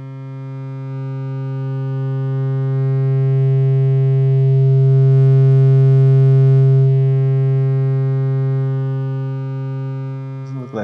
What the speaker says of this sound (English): let's see what happened to that sine wave.